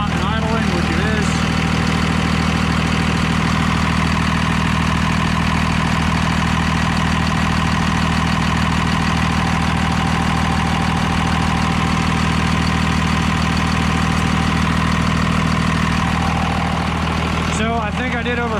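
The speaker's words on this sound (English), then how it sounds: "we're doing hot and idling, which it is" A 24-valve Cummins diesel truck engine idles hot at a steady, loud rumble for a long stretch, a constant low drone with brief talk near the start and end.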